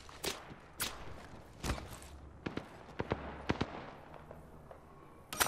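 Gunfire in the game Apex Legends cracks out in scattered sharp shots, some loud and close and others fainter, irregularly spaced over a low background hum.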